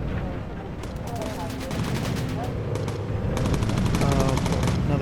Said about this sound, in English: Mackie, reload your gun.